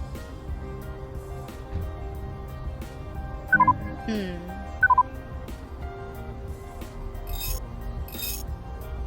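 A phone keypad is dialed in the time-travel point-and-click adventure game Old Skies, giving two brief clusters of electronic beeps over a quiet, steady background.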